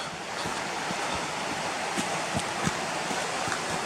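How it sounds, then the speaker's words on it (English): Steady, powerful rush of a fast-flowing river swollen by rain fills the whole clip, a broad continuous roar with a few brief louder surges. "River's running quite powerful today because obviously we've had rain."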